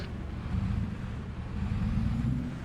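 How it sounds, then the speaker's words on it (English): Low, heavy engine drone of a truck in Farming Simulator 25, with a rough, rumbling texture, steady and fairly loud throughout, like a big truck idling and revving slightly. "this is a very powerful truck indeed. It's just extremely noisy."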